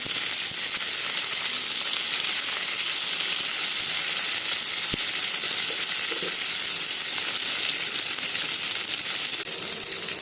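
Dry red chillies and curry leaves sizzle in hot oil with urad dal, a loud, continuous close-up hiss and crackle that holds steady throughout, with no speech.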